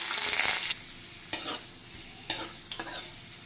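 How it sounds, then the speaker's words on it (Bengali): Peeled garlic cloves fry in hot oil for a dried loitta fish dish, giving a close, steady sizzle broken by a few sharp stirring scrapes and clinks. "এবার ছাড়িয়ে রাখা কিছু রসুন ভেজে নেব"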